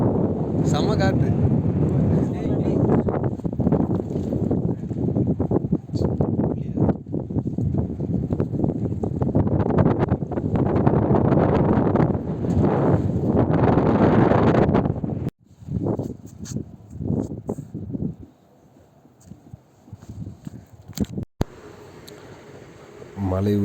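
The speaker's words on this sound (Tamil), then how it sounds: "செம்ம காற்று." Strong wind buffets the microphone on a hilltop, a loud continuous roar for about fifteen seconds before dropping to gusty bursts, with people talking at times.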